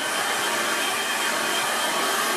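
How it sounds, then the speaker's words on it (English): A hair dryer blowing steadily to dry a fresh watercolour painting, a loud, constant whooshing roar close to the microphone with no pauses. "What I'm going to do next is dry that."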